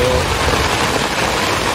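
Heavy rain pours steadily at a beach resort campsite, a dense, close wash of falling water drumming on surfaces with no break through the moment.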